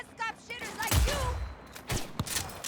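A few gunshots from a firearm in Cyberpunk 2077, with a low thump near the start and sharper cracks later, heard under game voices and chatter.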